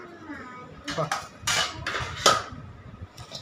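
Ghee is poured a little at a time into a jaggery mixture in a pot and stirred, giving scattered metallic scrapes and clinks of a utensil against the pot, with faint voices in the background.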